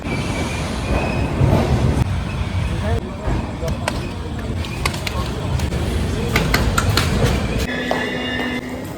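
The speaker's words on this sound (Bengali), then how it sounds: "আমরা ঢুকছি এখন খড়গপুর জংশন রেলওয়ে স্টেশন দশটা পঞ্চান্নতে টাইম ছিল লেটে ঢুকলো" Kriya Yoga Express 18615, running from Howrah to Ranchi, pulls into Kharagpur Junction: a continuous close rumble of railcars with metallic wheel squeals and clicks, and voices murmuring in the background.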